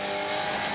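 Race cars lapping the Assen circuit in a Supercar Challenge race, a dense, loud engine roar with no break over a very short moment.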